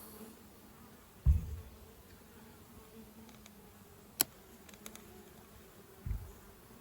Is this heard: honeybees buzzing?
yes